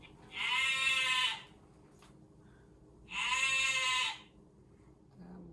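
Two loud, drawn-out bleats from a recorded ram, each about a second long with a steady wavering tone, separated by a quiet gap, played back during a children's lesson on farm animals.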